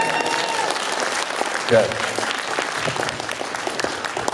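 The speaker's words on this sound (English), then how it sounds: "That was the worst applause ever." Thin, scattered clapping from an audience at a retro gaming expo, lasting the whole moment under a voice, with a quiet crowd murmur behind it.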